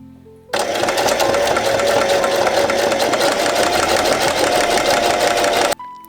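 A sewing machine runs a zigzag stitch through scrap leather, a steady close whirring hum with a rapid mechanical knock that starts abruptly, holds for about five seconds and stops.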